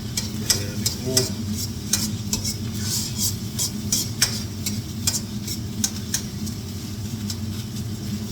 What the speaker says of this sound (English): what you want to hear, the sizzle.